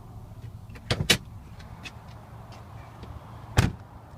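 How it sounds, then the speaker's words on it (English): Two sharp mechanical clunks sound close together near the start, then a third solid thunk a few seconds later, over a quiet hum, as the hood of a 2003 Pontiac Bonneville SSEi is opened. "let me pop the hood"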